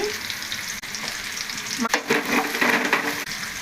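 Carrot and green chilli frying in a pan for fried rice, a loud close sizzle with spatula scrapes and stirring clatter, bursts of crackle swelling midway, no voices.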